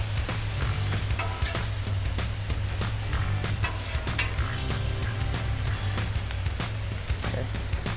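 Cheesesteak meat mixture sizzles loudly on a hot griddle over melting provolone, with a constant close frying hiss and occasional scrapes and taps of a spatula.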